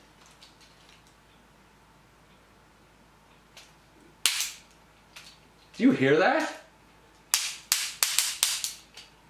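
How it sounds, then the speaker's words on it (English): The hip ratchets of a vintage G1 Transformers Brainstorm toy give sharp, close clicks, first a few scattered ones, then quick bursts of several in a row. A person speaks briefly. "Listen to these hip ratchets."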